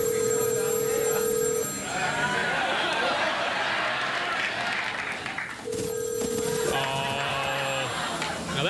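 An old-style telephone bell rings in two bursts, loud and close, with a busy studio background and faint murmur between the rings.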